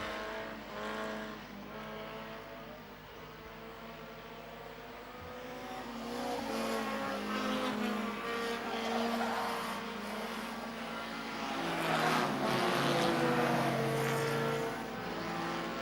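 Junior sedan race cars racing at Kingaroy Speedway, a dirt oval, with several engines droning and rising in pitch as they pass, a steady loud roar that swells and fades throughout.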